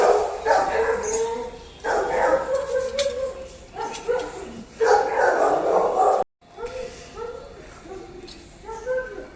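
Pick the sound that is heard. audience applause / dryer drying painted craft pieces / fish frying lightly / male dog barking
male dog barking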